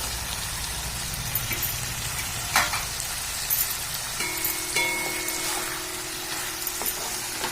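Fried potatoes and prawns sizzle in hot, oily masala in a pan, a close hiss with a few sharp clinks and scrapes of stirring.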